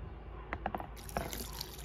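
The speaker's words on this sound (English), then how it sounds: "I'm gonna put in the water," Water poured into a pot of freshly harvested hornets for cooking, a brief soft splashing and trickling with a few drips, faint and close, with no talking.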